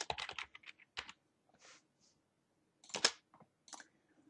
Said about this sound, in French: je peux tranquillement taper la suite